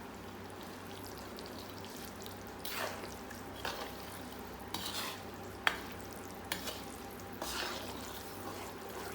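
Cashews and makhana stirred in a pan while making panjiri, with a steady sizzle of frying underneath and several distinct scraping strokes of a spoon against the pan spread through the clip, close and without speech.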